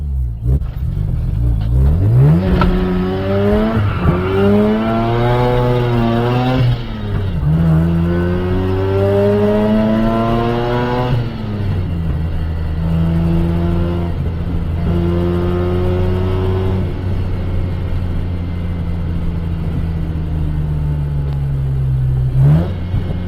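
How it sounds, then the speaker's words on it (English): A Mazda RX8 rotary engine revs hard in first gear while burning rubber on a street, rising again and again in loud, close whining sweeps that climb, drop back and surge upward repeatedly. "Is that right if I get it, if I burn a little rubber? Do it in first."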